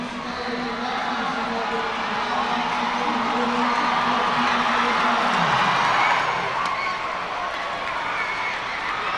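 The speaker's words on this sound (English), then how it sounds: "The crowd will take it from here." Hockey crowd at TD Garden roars and cheers as time expires in a Division I girls state championship game, a loud, sustained arena swell with whoops and screams.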